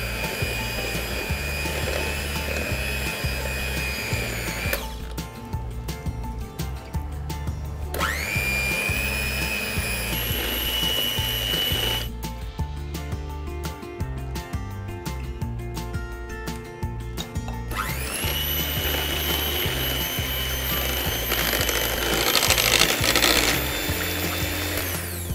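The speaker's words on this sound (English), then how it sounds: "I'm using electric beaters to do this as well" Electric beaters whir through toad-in-the-hole batter, a continuous motor drone that shifts pitch between speed settings, close and steady, with no talking.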